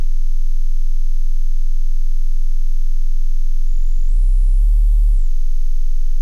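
A low, steady buzzing sine wave tone with a rough, distorted edge from bit-depth truncation, swelling briefly louder and harsher near the end before settling back.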